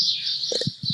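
Birds chirp in a brief, bright, continuous high twittering, with a few soft low thumps near the end.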